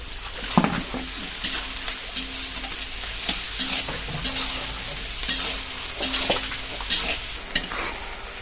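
Whole garam masala, chopped onion, slit green chillies and crushed garlic sizzle steadily in leftover fish-frying oil, with scraping stir strokes and sharp spatula knocks against the pan recurring throughout.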